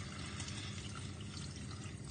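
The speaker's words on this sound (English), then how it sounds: "Now to this I'm going to add my stock." Stock is poured into potato and leek soup in a pan, a soft continuous liquid splashing and trickling, faint and close, lasting a couple of seconds without speech.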